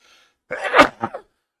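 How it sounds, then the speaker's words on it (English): A single sharp sneeze, close and loud, with a brief intake of breath leading into it and a short trailing sound after. "Oh, I'm going to sneeze."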